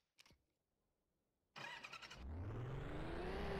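A car engine in the Rigs of Rods driving simulator cranks and catches after a sharp click, then revs hard and holds a loud, rising drone while the car spins donuts, with no voices.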